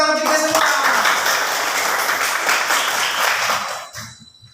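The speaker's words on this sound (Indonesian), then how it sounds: "Mantap, tepuk tangan untuk kita semua." A classroom of schoolchildren bursts into loud, dense clapping together, sustained for several seconds before tapering off abruptly, with a few voices at the close.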